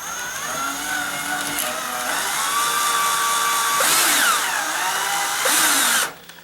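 Power drill driving a self-tapping screw into a stucco wall beside a front door, a loud, close, steady whine that rises in pitch, bogs briefly as the screw bites, then winds down and stops near the end.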